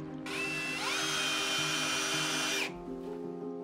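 A power drill whirs steadily for about two and a half seconds, with a rising then level pitch, as it bolts a subwoofer driver into its speaker enclosure, close and loud.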